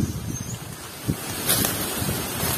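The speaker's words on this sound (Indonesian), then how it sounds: "Anginnya guys kencang sekali ya" Strong wind buffets the microphone outdoors at a dove-hunting spot, a constant loud rumbling roar with gusty swells and no talk.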